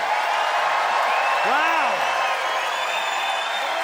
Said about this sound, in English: All right, audience, it is up to you to vote by applause.